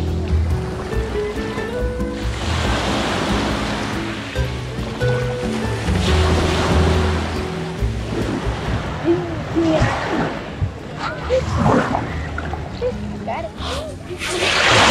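Waves wash and slosh onto a pebble beach in Positano, Italy, a continuous surging rumble with rolling swells, while voices murmur in the background.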